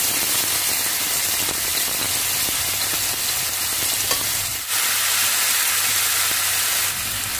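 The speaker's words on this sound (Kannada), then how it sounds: "ಈಗ ನಾನು ಇದು ರುಬ್ಬಿದ ಮಿಶ್ರಣ ಇದನ್ನ ಹಾಕ್ತಾ ಇದ್ದೀನಿ." A ground spice paste is frying in hot oil in a pan for ridge gourd rice, giving a continuous loud sizzle and hiss with occasional spatter pops throughout and a brief stir partway through.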